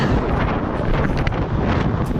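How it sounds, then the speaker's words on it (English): Strong wind blasting loudly and continuously across the microphone at the Carrick-a-Rede rope bridge in Northern Ireland, a dense roaring rumble with no voices. "it's super windy"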